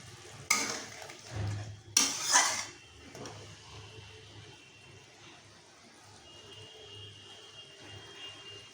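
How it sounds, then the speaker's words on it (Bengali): A dish is stirred and sautéed in a pan with modest oil, two loud scraping clatters of utensil against pan up front, then a quieter steady sizzle continuing alone. "এবার এটা কষছে, আর একটু কষবে।"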